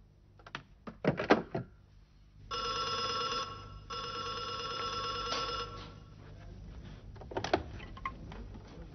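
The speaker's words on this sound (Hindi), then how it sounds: "जी, अच्छा शमीम तुम्हारा फोन" A telephone in a guest house scene of a stage play rings with a steady electronic trill in two bursts, briefly paused between them, preceded by knocks and thumps and followed by faint bumps.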